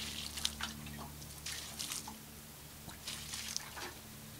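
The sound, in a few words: water sprinkled on hot ashes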